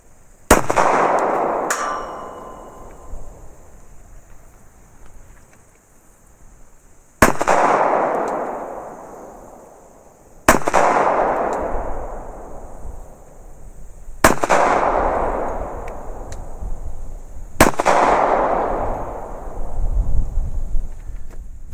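Five loud .45 ACP gunshots from 230 grain hollow point defense ammo, each a sharp crack followed by a long decaying echo, fired singly at intervals of a few seconds outdoors.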